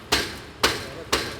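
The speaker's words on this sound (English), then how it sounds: "you break these beads off when you're racking it with that hammer" Hammer striking sheet metal machine slats to knock off slag beads, three sharp metallic blows evenly spaced about half a second apart, each ringing briefly, close and loud.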